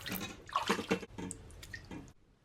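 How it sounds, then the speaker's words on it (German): Water splashes and trickles in short bursts as soaked ginger is rinsed under a running tap, with brief pauses between pours. "Nach dem Einweichen wasche ich den dann nochmal mit Wasser ab"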